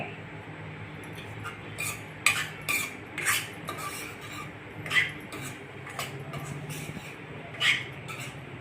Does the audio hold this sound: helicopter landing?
no